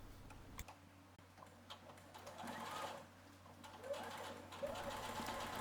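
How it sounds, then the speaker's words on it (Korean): Quiet sewing machine stitching fabric in short runs using the free arm, a soft rapid mechanical whir with faint ticking, starting and stopping, with a voice speaking softly in between. "2mm 안쪽으로 들어와서 지금 박고 있어요."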